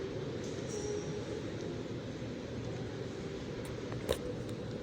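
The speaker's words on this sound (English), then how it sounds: "we'll just go and get on the metro" A Singapore MRT metro train rumbles along with a steady low roar, heard from inside at moderate distance, with a faint high whine and an occasional sharp click.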